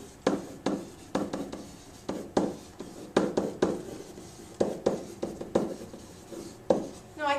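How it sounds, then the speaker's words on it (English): A pen taken from the tray writes on an interactive smart board, giving a run of quick rhythmic scratching strokes in short bursts with brief pauses between them, close and fairly soft, with no speech. "I'll use the pen here from the tray and write the answer."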